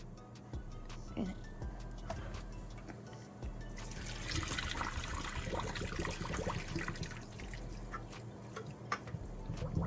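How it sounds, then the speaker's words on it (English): Water pours off cooked saltfish from a pot, a steady splashing gush that swells midway and runs on, with faint clinks and a low background hum. "I'm just gonna pour the water off."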